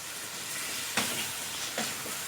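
Chicken liver and gizzard fry in a pan with a soft, steady sizzle, broken by two brief louder stirs or scrapes.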